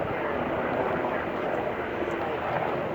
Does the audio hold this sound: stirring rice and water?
no